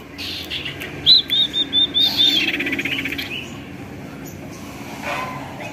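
A male sirpu bird in a cage sings a quick series of high chirps, about six short notes in a row, then trails off over a low background rumble.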